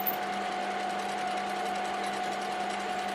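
A lathe machining a part in a home workshop during a sports car build, giving a loud, steady mechanical whine with a constant hum that runs without a break throughout.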